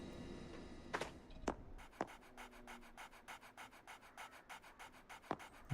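A dog in a video game pants in a quick, even rhythm of short breaths, close and soft, after a few sharper scratching clicks at the start.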